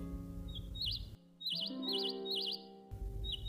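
A flock of small birds chirping in an animated forest scene, with bright, repeated warbling tweets in quick bursts over a sustained tonal backdrop that briefly drops away, close and clear, with no talking.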